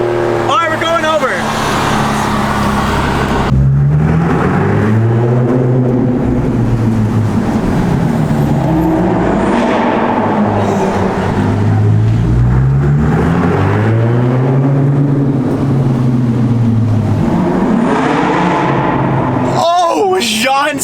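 Race cars, including a BMW M4, run on a track with a loud, continuous engine drone whose pitch climbs and drops again and again through gear changes, close and dominant throughout.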